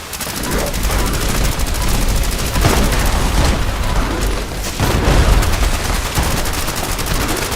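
Dense gunfire and booming explosions from a Fallout 76 fight against a legendary Bigfoot, a loud, continuous barrage of shots and blasts with heavier thumps around the middle and near the end.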